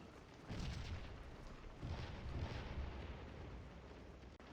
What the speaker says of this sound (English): All the rest of our guns are up and firing